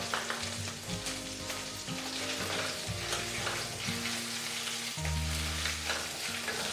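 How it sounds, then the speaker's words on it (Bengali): Five-spice and dried red chillies tempering in hot oil for a jackfruit and prawn dish. The oil sizzles close and steady as a spoon stirs, with clinks and scrapes against the pan and no talk. "এবার আমি এই তেলের মধ্যেই 5 ফোড়ন আর শুকনো লঙ্কাটা ফোড়ন দিয়ে দিলাম"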